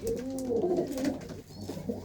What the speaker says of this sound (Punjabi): ਤੇ ਆ ਕਬੂਤਰ ਆ ਆਪਣੇ ਬਾਈ ਦੇ